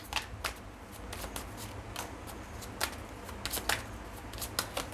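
Tarot cards shuffled and drawn by hand, a series of crisp riffling and snapping flicks at an uneven rhythm, close and fairly quiet, with no talk.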